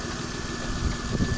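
A freshly replaced ES9A V6 car engine runs at a steady idle, a continuous low rumble with a faint hum and slight surges in loudness, heard alone.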